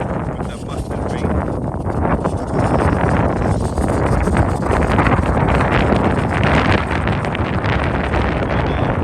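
Strong outdoor wind batters the microphone, a loud, continuous low roar with gusty rumbling throughout, on a field where a small remote-controlled plane is flown in high winds.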